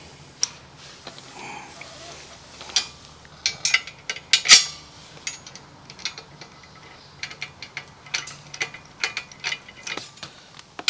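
A 13 mm socket ratchets on a bolt while a rear bumper and hitch kit goes onto a John Deere Z355E zero-turn mower. Close, rapid clicking comes in bursts with metallic clinks and a sharp clank.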